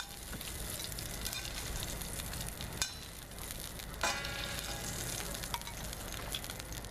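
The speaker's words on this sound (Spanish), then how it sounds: "Y una vez más ponemos grasa en el sartén." Fat sizzles steadily in a frying pan before steak is cooked, a constant close hiss with a couple of brief sharper crackles and pops, heard alone without voices.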